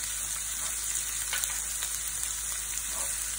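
Asafoetida dropped into hot oil in a pan while cooking potato filling for masala dosa, giving a steady, close hiss of sizzling and frying throughout with faint stirring.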